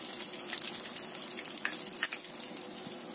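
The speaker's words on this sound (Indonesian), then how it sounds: "Kita goreng sampai kering ya." Tapioca and tofu snacks fry in hot oil in a wok, giving a steady, close crackling sizzle with scattered pops and spits, with no voices over it.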